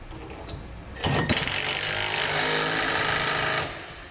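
A power tool with a 3/4 inch socket tightens bolts on a fifth wheel underbed kit on a 2017 Ford F-350 Super Duty, producing one loud, close, rattling burst of about two and a half seconds.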